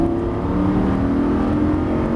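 A Lamborghini Gallardo LP560-4 engine drones loud and steady at full throttle on a racing circuit, climbing smoothly through the revs as a continuous, tight, rising roar heard from inside the car.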